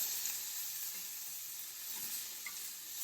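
Garlic fries in oil in a pot for a chicken and corn chowder, giving a soft, steady sizzle with a constant hiss and no talking.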